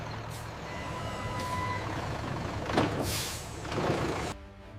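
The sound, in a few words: trucks arriving at loading docks, air brakes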